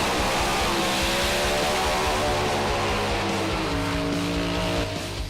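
Two Pro Slammer drag racing cars roar at full throttle at a 400 Thunder drag race, a loud and unbroken engine blare that holds steady for about five seconds with no talking.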